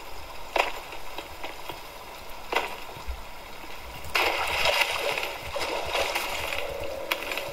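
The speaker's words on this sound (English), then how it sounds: "there's a waterfall there" A waterfall in the Icarus video game splashes and rushes steadily nearby, with occasional louder splatters and a fuller surge of water partway through, and no talking over it.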